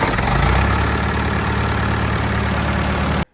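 A 1962 dozer engine, started with a jump starter and no battery, runs loud and close with a rough, rumbling idle and a steady knock, then cuts off abruptly at the end.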